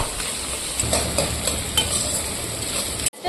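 Chopped onion and capsicum frying in oil in a pan for a Bengali chhyachra dish, a steady close sizzle with light stirring scrapes, alone with no voices, cut short by a brief drop near the end.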